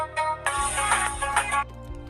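A downloaded ringtone plays through a phone speaker, a bright melodic tone pattern with steady harmonic notes that starts after a brief pause and runs for about a second before stopping, with no talking.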